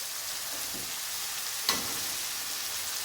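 Onions sizzle steadily in a hot pan, a constant crackling hiss with one brief sharper pop partway through.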